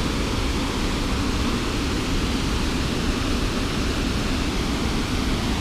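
Flowing river in Switzerland, a broad, steady rushing of water heard up close with no break or change throughout.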